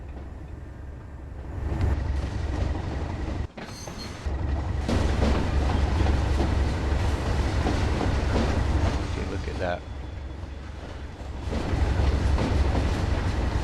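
A train runs on rails in Train Sim World on the Tees Valley Line, with a steady rumbling roll and rhythmic clatter that swells after a brief dip, while someone comments briefly over it.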